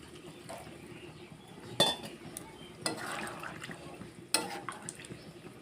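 Garam masala and water go into a pot of chicken kosha curry: three spaced metallic clinks of a spoon against the cookware over a quiet background, with faint kitchen noise between.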